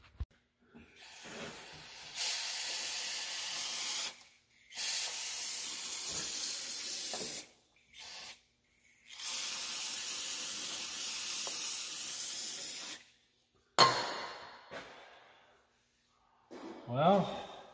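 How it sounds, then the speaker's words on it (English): Brake cleaner sprays onto a greasy hydraulic cylinder in several long, steady hissing bursts with short gaps between them, close to the microphone, followed by a few softer rattling handling sounds. "I'm gonna get some brake cleaner and clean some of the gunk out of there"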